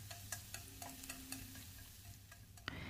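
Sliced shallots and scallion bases frying in hot oil while being stirred, with steady sizzling and repeated clicks of a utensil against the pan, close and fairly loud, with no talking.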